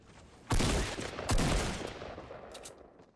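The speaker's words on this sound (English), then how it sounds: "I shouldn't have used the shotgun" Two loud, close shotgun blasts from Fortnite, each a heavy burst that trails off into a long decaying echo, with faint game sounds between them.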